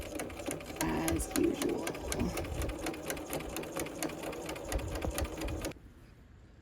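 A sewing machine stitches rapidly and steadily over a seam on a quilted romper, its needle clattering in a fast even rhythm, with a few brief spoken words and softer handling sounds, before stopping abruptly.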